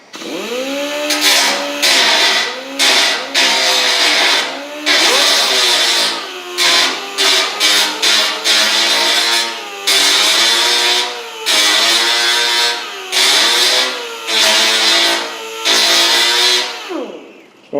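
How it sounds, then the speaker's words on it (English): An angle grinder with a grinding disc works the edges of the body on a 1972 Camaro project car, a loud, close, high-pitched whine. It rises and drops in repeated bursts as the disc meets and leaves the metal. "that's a Jeff Lindsay grinding disc. Just gonna hit the edges."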